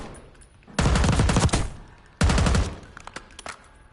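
Two loud bursts of automatic gunfire in Black Ops 6 multiplayer, each a rapid stream of shots lasting under a second, with a short gap between and quieter scattered shots afterward.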